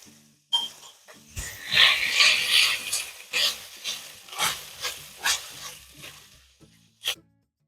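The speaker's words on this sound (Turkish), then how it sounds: "Mantarlar biraz kavrulduktan sonra kıymayı ilave ediyorum." Mushrooms and ground beef frying in a pan, a loud close sizzle swelling and ebbing as the food is stirred, with scraping stirs and a short clatter near the end.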